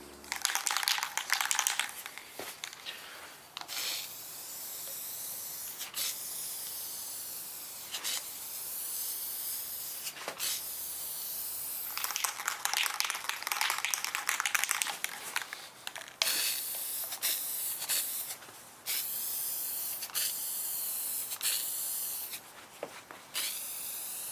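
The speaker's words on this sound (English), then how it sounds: "May as well spray paint them at the same time." Bursts of hissing spray from an aerosol can of black paint on Jr. Pac-Man arcade cabinet parts, repeated in short and long sprays separated by brief pauses and clicks.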